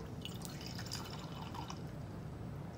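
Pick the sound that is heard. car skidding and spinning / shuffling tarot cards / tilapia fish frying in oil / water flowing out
water flowing out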